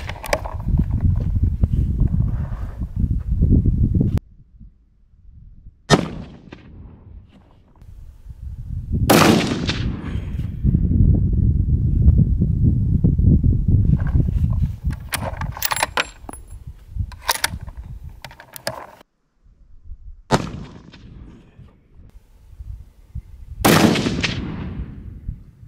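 Three sharp rifle shots from a Tikka T3x in 7mm Rem Mag with 150 grain loads, fired outdoors while goat hunting, ring out as loud cracks spaced several seconds apart over steady wind rumble.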